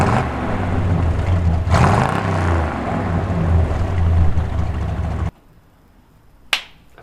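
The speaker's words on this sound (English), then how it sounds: "Want some rev action? We can make that happen." An El Camino engine revs hard in a loud, continuous roar for about five seconds, then cuts off abruptly, leaving near-quiet broken by one short sharp sound near the end.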